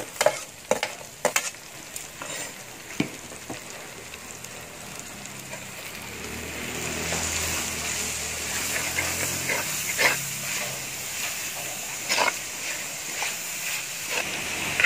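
Onions hitting hot oil in a home kitchen pan while making a Kerala-style beef and koorka dish, bursting into a loud, steady sizzle after a few stirring clatters and continuing as a dense frying hiss.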